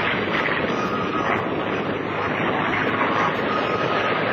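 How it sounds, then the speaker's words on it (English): A P-51C Mustang flying at an airshow makes a loud, continuous roaring engine drone that stays full and steady throughout, with no voices over it. "comes back in Airshow Center field with P-51C Mustang"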